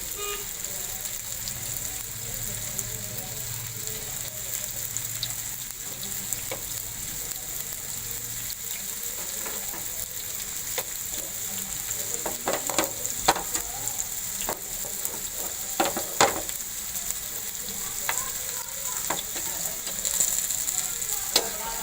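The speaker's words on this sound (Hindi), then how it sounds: "बिल्कुल हल्की आंच पे आप इसको फ्राई करेंगे।" Chicken seekh kebabs, coated in a little oil, frying slowly over a low flame, giving a steady soft sizzle with scattered sharp pops and crackles that grow a bit busier toward the end.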